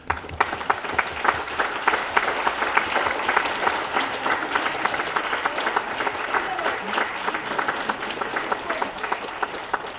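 Sustained applause from nursing school graduates rising to honor their family and friends at a 2021 commencement ceremony, dense steady clapping across a large hall with faint voices underneath throughout.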